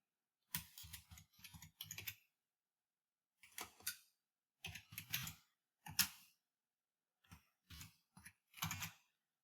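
A name being typed on a computer keyboard, heard as close, crisp bursts of keystrokes grouped in short runs and separated by silent pauses, with no voices.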